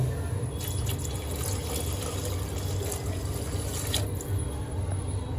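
Water trickles and splashes into a pot of khichdi, a continuous liquid pour with a few drip-like accents, close by.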